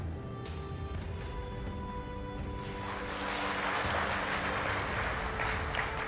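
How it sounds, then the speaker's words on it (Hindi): Audience applause in a hall during a motivational talk, a broad steady clapping noise that builds and grows louder in the second half, with no talking over it. "अब आप लोगों ने ये तालियां क्यों बजाई हो मुझे बताएं।"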